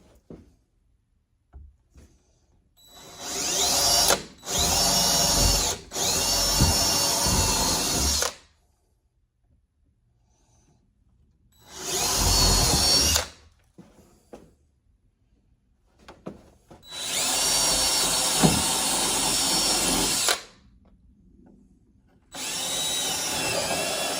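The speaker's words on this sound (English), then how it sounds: "So I'm going to drill my pilot holes in them and get this bracket mounted." Power drill boring pilot holes to mount a bracket, whining in several loud bursts of a few seconds each, separated by quiet pauses with faint handling noises.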